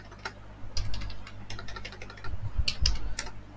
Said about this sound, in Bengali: আমি যদি এখানে লিখি মিজান